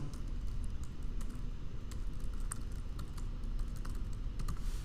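Fingers tap out a username on a computer keyboard, a quick, steady run of light key clicks close by over a soft background hiss.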